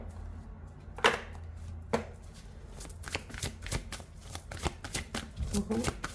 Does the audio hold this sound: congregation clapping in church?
no